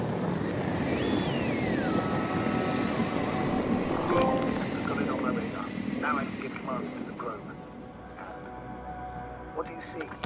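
Probe flying in the video game The Invincible, a steady droning engine-like hum with a gliding, falling whine over a rough windy rumble, continuous throughout while people talk over it.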